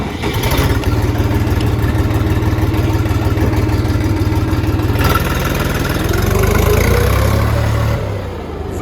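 A loud Horst R244XU tractor diesel engine idles with a steady low chugging rumble, close by, its pitch rising briefly before settling again.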